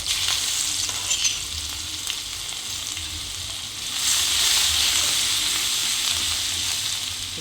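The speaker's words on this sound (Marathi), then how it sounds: "हे लाल तिखट जे मी केलं ते मी याच्यात पहिलं फ्राय करून घेणार आहे" Red chilli powder frying in hot oil with mustard seeds, asafoetida and turmeric, a steady close sizzle with light stirring that swells louder midway and stays hissing to the end, with no talk.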